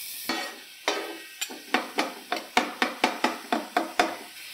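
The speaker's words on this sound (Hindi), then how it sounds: "और अब इसमें हम कटी हुई प्याज डाल देंगे, इसको हल्का सा फ्राई करेंगे।" Chopped onions frying in oil on a hot tawa, with a steady sizzle broken by about a dozen sharp, regular spatula strikes and scrapes against the metal, close and clear with no voices.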